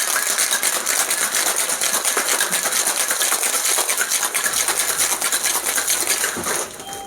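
A cocktail shaker packed with ice is shaken hard while mixing a rum cocktail at home, a loud continuous rapid rattle lasting several seconds before easing off at the end.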